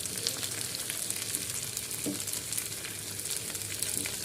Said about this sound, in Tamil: ரோஸ்ட் ஆகணும் பாருங்கள் கலர் மாறிட்டே வருது இந்த மாதிரி ரோஸ்ட் ஆகிட்டு